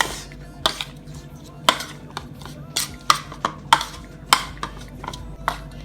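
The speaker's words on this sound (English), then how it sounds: "So just I'll go ahead and give that a little mix." Seasoning blend of onion, garlic, scallion, thyme and pepper for spicy garlic shrimp stirred in a bowl, a series of sharp spoon-on-dish clinks and taps at an irregular rhythm, close and fairly clear.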